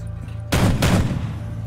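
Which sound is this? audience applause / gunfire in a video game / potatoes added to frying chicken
gunfire in a video game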